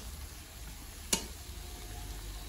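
Fish frying in a pan gives off a faint, steady sizzling hiss, broken once by a brief sharp click.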